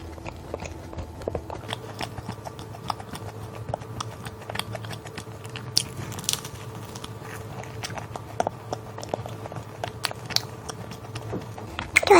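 Someone bites into and chews crispy yakgwa, a Korean honey pastry, with soft, close crunches and steady mouth sounds repeating over about twelve seconds. No one speaks.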